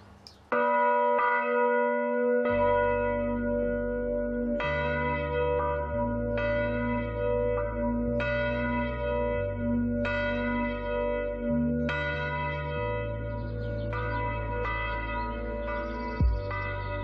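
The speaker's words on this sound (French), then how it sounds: "le tintement des cloches résonnera longtemps encore dans les ruelles de Loum" Church bells in the Corsican village of Lumio, several bells rung in a repeating pattern with long ringing tones overlapping, loud and close, with no speech.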